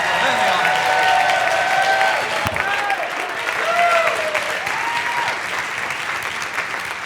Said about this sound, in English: Please, let's give them a round of applause.